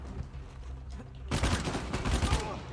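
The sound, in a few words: grenades exploding while panic bombing in Uncharted 4 video game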